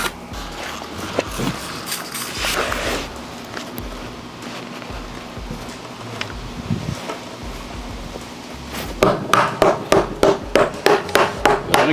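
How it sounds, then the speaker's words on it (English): Mallet blows tapping Banas stone tiles down into wet mortar during a DIY installation, a quick run of about a dozen sharp, evenly spaced knocks near the end after quieter scraping and handling noise. "I'm gonna get a hammer, a mallet."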